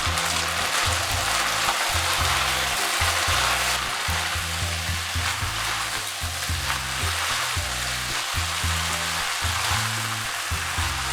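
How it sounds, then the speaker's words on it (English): Chicken chow mein noodles with sauce and pepper stir-fry in a pan, giving a steady, dense sizzle that runs throughout, with occasional stirring and a low rhythmic backing underneath. "Add the noodles, the sauce, a pinch of pepper. Stir from time to time for 2 minutes."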